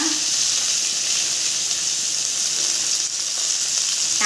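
Finely chopped onions and curry leaves fry in hot oil for a quail egg gravy, giving a steady, loud, close sizzle with a faint hiss throughout and no talking.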